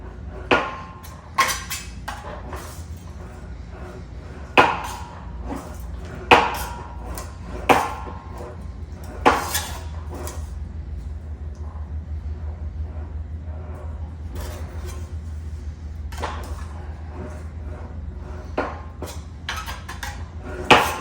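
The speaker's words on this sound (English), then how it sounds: "how fast you can put shape into metal with a planishing hammer" Sharp metallic planishing hammer strikes shaping a sheet metal car fender ring out in irregular bursts over a steady low mechanical hum, with quieter tapping between the louder blows.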